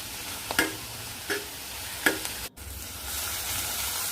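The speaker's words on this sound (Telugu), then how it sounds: "ఇప్పుడు తరిగిన పాలకూర వేసుకొని బాగా వేయించుకోవాలి" Chopped spinach sizzles in a pan with fried onions for palak rice, a steady hiss broken by three sharp spatula stirs and a brief pause before the frying swells again.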